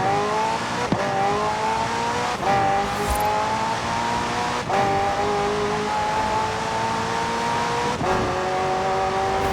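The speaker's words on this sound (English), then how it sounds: "The car's blistering performance is delivered by a twin-turbo V8, supplemented by a Mclaren ECU electric motor and instant power assist system." A McLaren hybrid twin-turbo V8 race car in Forza Horizon 4 accelerates hard, its engine note climbing steadily through gears, with brief dips at each of several quick upshifts; loud and continuous with no talking.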